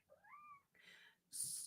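A domestic cat gives a clear rising-and-falling meow close by, followed by a short, noisy rustle and a sharper hissing burst, with no one talking.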